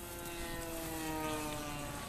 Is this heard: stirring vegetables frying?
no